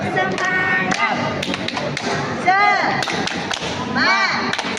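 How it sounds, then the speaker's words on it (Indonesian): A group of participants at a teachers' literacy and numeracy training session claps a rhythmic cheer pattern, with sharp claps and taps mixed with excited voices, all close and lively. "bagaimana kita kalau bertepuk semangat dulu?"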